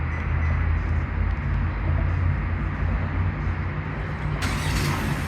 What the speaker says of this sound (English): And as you can hear, the vehicle is currently running.